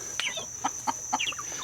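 Backyard chickens, some missing back feathers, give short scattered clucks and chirpy calls near a rabbit hutch, a few bursts close by over a steady high hum.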